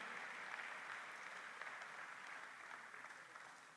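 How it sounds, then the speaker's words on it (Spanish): Applause from a church congregation praising the Lord during a sermon, a steady wash of clapping that fills the room evenly and tapers slightly toward the end, with no voices over it. "Dele fuerte el aplauso al Señor."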